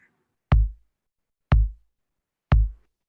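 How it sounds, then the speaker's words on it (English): Three evenly spaced punchy kick-drum hits from a step sequencer on beats 1 and 3, each a loud boomy thud with a short decaying low tail, separated by silence. "So right now, just on 1 and 3,"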